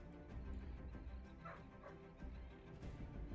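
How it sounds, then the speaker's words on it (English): A dog yaps a few times, short muffled barks from another room, faint beneath steady background hum. "if you can hear my dog yapping in the other room"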